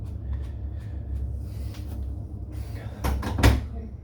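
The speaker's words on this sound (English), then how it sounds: "Can you open the door, please?" A household door is opened with a short clack and rattle near the end, after a stretch of low room hum and faint movement; a brief bump follows the latch sound.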